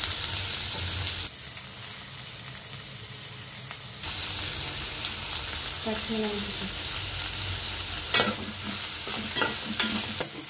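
Onions sauté in a pan for squid gravy with a frying sizzle that drops away and returns, broken by scraping stirs and a few sharp utensil clacks near the end, heard close and with no clear talk.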